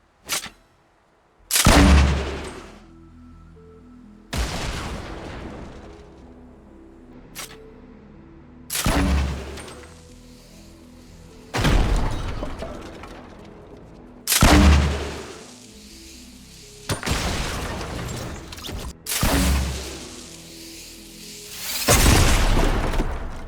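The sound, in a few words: grenade launcher projectile sounds in Fortnite video game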